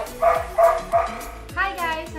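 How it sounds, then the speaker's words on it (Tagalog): A dog at home barks about four times in quick succession nearby, the yaps short and sharp with brief whines trailing between them. "Maingay yung aso namin"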